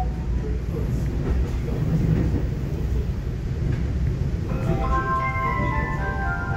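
A Taiwan Railway EMU900 ten-car commuter train pulls away from a station, its steady low rumble continuous throughout, with rising motor whine tones appearing toward the end.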